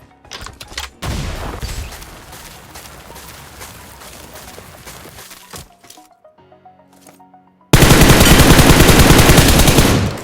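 Machine gun fire in a video game, dense rapid bursts that fade into scattered cracks and a near-silent gap, then a sudden very loud sustained stream of automatic fire, no voices.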